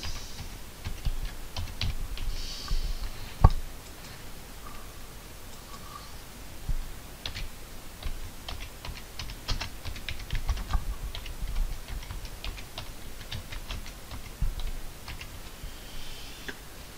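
Keys clack in uneven bursts on a computer keyboard while dates are entered into a table in Word, steady and close with brief pauses and one sharper tap.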